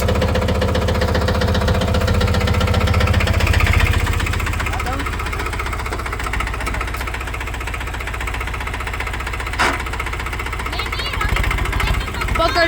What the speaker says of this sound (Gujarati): આગળ ટ્રેક્ટર લઈ લઉં